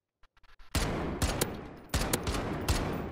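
Rapid automatic gunfire in a first-person shooter, rounds fired through a wall at a hidden enemy near a back building; several loud sustained bursts with short gaps, close and dominant, after a few faint clicks at the start.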